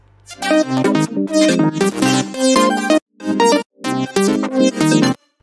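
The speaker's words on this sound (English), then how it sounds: "because the entire synth for the drop sound like this." Layered drop synths from a music production piece play dense, bright chords in rhythmic bursts, loud and upfront, with short gaps between phrases and no voices.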